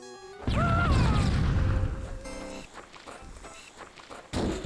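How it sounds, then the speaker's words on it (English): Grenade blasts flipping a Warthog vehicle in the Halo video game: a loud crashing boom with metallic tumbling dominates the first seconds, then rattling impacts and scattered thuds follow, with a final burst near the end. "how many grenades does it take to flip a warthog? Warthog launch."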